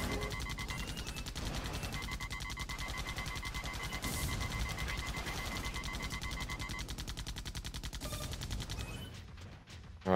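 Auto turrets in the video game AirMech fire steadily without pause, a rapid mechanical stream of shots held at an even level for the whole stretch, with no voices.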